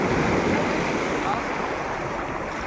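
Big ocean waves breaking in a continuous loud surf roar, mixed with wind buffeting the microphone close by.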